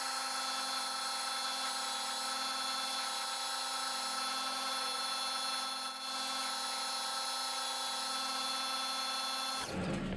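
A metal lathe turns steadily while a boring bar cuts an internal taper for a die holder's drive cone, giving a constant whining hum with tonal ringing that cuts off sharply at the end, with no talk.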